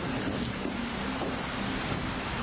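A small waterfall beside a porch gives a continuous, dense rush of splashing water, steady and fairly close, with no talking.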